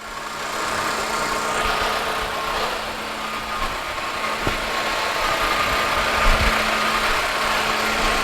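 Flood-damaged 2013 Hyundai Sonata engine running at a steady idle, a continuous close mechanical hum and whir with faint rattles and a few small knocks, no voices.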